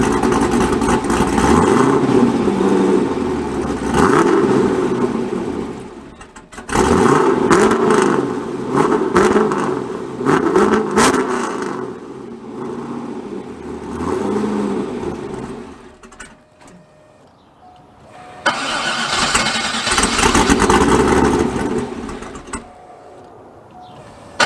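A cammed Chevrolet Corvette C5 engine runs close by with a choppy, loping idle. It revs up hard several times with short lulls between the pulls. No one speaks over it.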